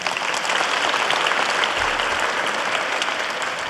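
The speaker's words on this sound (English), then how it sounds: "Give them a round of applause." An audience at a formal school board meeting applauds honored students with dense, continuous clapping from many hands across the room.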